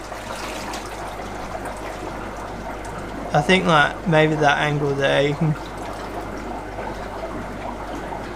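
Water pours from a 6-foot pipe into a pond in a strong, steady rushing flow, heard continuously throughout, with someone talking briefly over it partway through.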